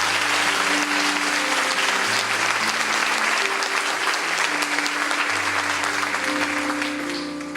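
A church congregation breaks into sustained applause during a sermon, dense clapping from many people filling the room at steady loudness, with an organ or keyboard holding chords underneath.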